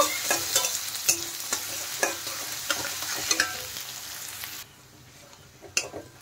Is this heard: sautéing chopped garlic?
yes